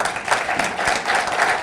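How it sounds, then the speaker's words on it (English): A conference audience claps at a general session, a dense and steady applause that holds at full loudness throughout, with no talking over it. "Let's clap for them."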